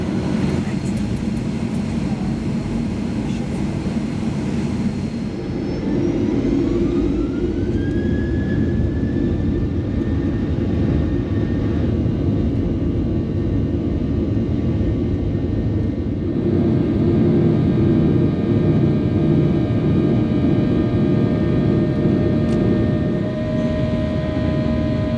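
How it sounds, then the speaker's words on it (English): Jet engines of a Virgin Australia airliner roar steadily during pushback, heard from inside the cabin as a loud, continuous drone with rising whines and tonal hums layered on top. "We finally began our pushback after being half an hour behind schedule."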